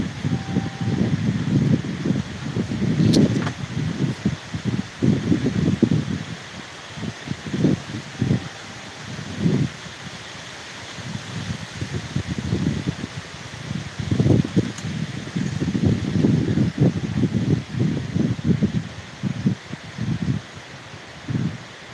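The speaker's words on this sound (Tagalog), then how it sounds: "Grabe ang lakas hangin sa amin" Strong wind gusts in irregular bursts, rumbling against the microphone with rustling underneath.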